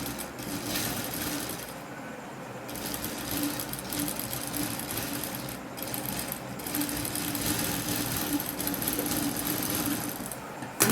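A sewing machine stitches a straight seam along fabric with lace, running loud and steady with its fast rhythmic mechanical rattle, pausing briefly near the start.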